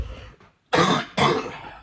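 Two harsh coughs in quick succession, close and loud, following a brief quieter throaty sound and a moment of silence.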